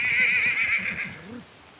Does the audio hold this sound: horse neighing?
yes